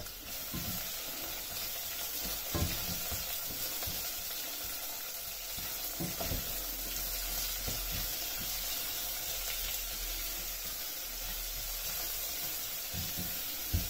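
Steady, loud sizzling of onions and peppers frying in a hot pan, a continuous crackling hiss with occasional stirring clinks and no talking.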